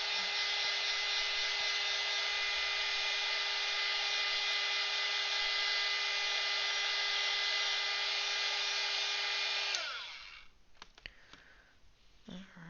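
A hair dryer drying a crayon drawing blows with a steady, close, tonal whir for about ten seconds, then switches off. Faint handling noises and small taps follow in the quiet.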